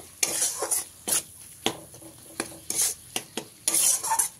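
Tomatoes and soybean chunks stir-fried in a pan, with a spatula scraping and clattering against the metal in short, irregular bursts over a light sizzle, close and fairly loud.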